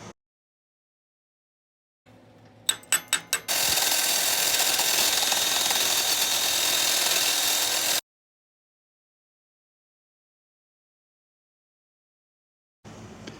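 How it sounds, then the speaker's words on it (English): Tack welding a steel bumper with a C-clamp holding it in place: a few sharp crackling arc strikes, then a steady, loud, hissing weld burn for about four seconds, followed by silence. "I think I'll put the bumper in place and tack weld it."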